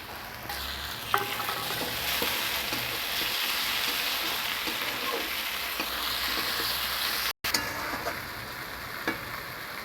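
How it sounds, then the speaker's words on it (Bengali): Chopped onions frying in a pan until browned for a spicy chicken kosha, with a steady loud sizzle and occasional stirring scrapes throughout, briefly cutting out once near the end. "পেঁয়াজগুলো ভালো করে লাল লাল করে ভেজে নেওয়া হচ্ছে"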